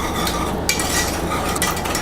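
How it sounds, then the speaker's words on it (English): Blondie batter ingredients being whisked in a bowl: a steady, close, scratchy swishing that runs continuously without pause. "With your whisk, you can kind of use that beating your eggs for an omelet action here"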